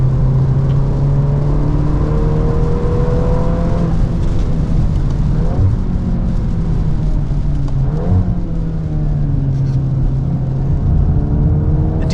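A 2025 Volkswagen Golf R or GTI with a DSG gearbox accelerates hard on the Road America race track, its engine droning loudly and steadily throughout, climbing in pitch through shifts as it powers out of a corner.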